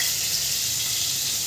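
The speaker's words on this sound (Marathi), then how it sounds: "आता आपण तेलामध्ये टाकणार आहोत बटर" Butter melting into two spoons of hot oil for tempering, a steady close hiss and crackle of sizzling fat running evenly throughout without a break.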